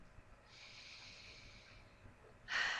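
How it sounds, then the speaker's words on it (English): A long, soft nasal inhale drawn steadily through the nose, followed by a sharper, louder sniff at the end, with a quiet hum in the background. "Every few minutes, sniffing out of the bottle, calming my body down"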